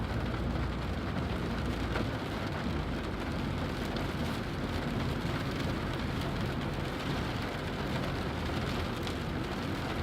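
Rain falling on a moving car on an Ohio road, a steady broadband hiss and patter mixed with low road rumble, even and unbroken throughout, no voices.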